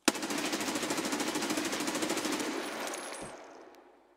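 A stock M4 rifle in Escape From Tarkov fires one sustained full-auto burst at a nearby target, rapid evenly spaced loud shots for about three seconds, then trailing off into echo.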